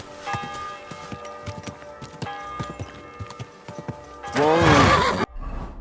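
Horse hooves clip-clop in an irregular walking rhythm in the video game Kingdom Come Deliverance II, with a ringing tone in the background, then a loud whinnying snort near the end.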